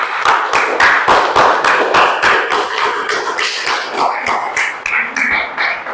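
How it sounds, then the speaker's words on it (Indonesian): Classroom clapping by students, a loud, fairly rhythmic run of sharp hand claps repeating steadily for several seconds with slight unevenness toward the end. "tepuk tangan."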